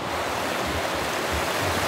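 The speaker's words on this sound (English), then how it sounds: "They have a river." A river flows past a house on a rural property in Quebec, giving a steady, broad rushing wash with some wind buffeting the microphone, continuous and fairly loud with no voices.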